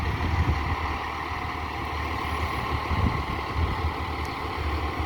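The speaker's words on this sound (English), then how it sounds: "this will be the new engine 15 responding" Fire engine 15, a 2017 unit formerly engine 36, rolls out to a residential fire alarm with a steady, close diesel rumble throughout and no siren.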